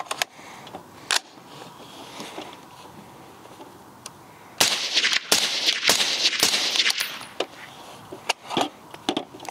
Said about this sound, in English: fully closed, suppressed with the 147-308. I'm gonna have you shoot that